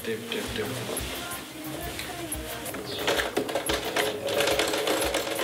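Sewing machine stitching in a South African tailoring workshop, a rapid rattling patter that keeps going under a person talking throughout.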